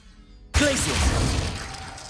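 After a moment of near silence, a Glacius ice spell in Hogwarts Legacy bursts with a sudden crystalline shattering crack, followed by a bright, icy ringing decay that fades slowly.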